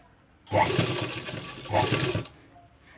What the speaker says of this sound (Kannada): ನಂದು ದೊಡ್ಡ ಮಷಿನ್ ಆಗಿರೋದ್ರಿಂದ ಕಾಲಲ್ಲೇ ಅಡ್ಜಸ್ಟ್ಮೆಂಟ್ ಮಾಡೋದಿರುತ್ತೆ ಇದನ್ನು ಎತ್ತೋದು ಇಳಿಸೋದು ಸೊ ಅದರಲ್ಲೇ ಮಾಡ್ಕೊಳ್ತಾ ನಾನು ಸ್ಟಿಚ್ ಮಾಡ್ತಾ ಇದ್ದೀನಿ